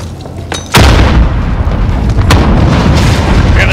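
A grenade goes off in Call of Duty Modern Warfare as one sudden loud boom. A long roaring rumble of debris and echo follows it.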